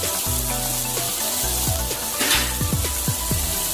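Kerala-style fish wrapped in banana leaf frying in a pan, with a loud, steady close sizzle and occasional soft knocks and shifts of the pan; no voices.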